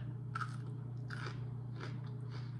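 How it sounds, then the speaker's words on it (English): Several crisp crunches as teeth bite into a firm fermented dill pickle slice, four distinct bites spaced across the moment, close and clear over a steady low electrical hum, no talking. "It's a good crunchy pickle."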